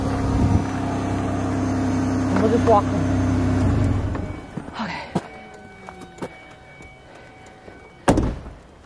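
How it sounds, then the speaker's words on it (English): A car engine running steadily and then cut off, followed by a car door slamming shut and a few lighter thumps, heard up close on a cold outdoor evening while a person talks nearby. "Try to shut my door, shut my car off."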